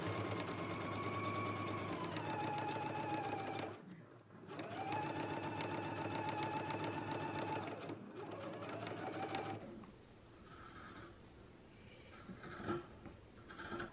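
A sewing machine stitches a curved garment seam at a 1/5 inch allowance in two steady runs with a brief pause between, then stops, leaving quieter handling noises. Moderately loud and close, with no talking.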